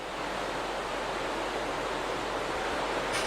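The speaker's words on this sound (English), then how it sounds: "Sound suppression water system" Starship Flight 4 launch pad sound suppression water system running, a steady, loud, broadband rushing roar like heavy surf or a waterfall, constant throughout with a slight swell near the end.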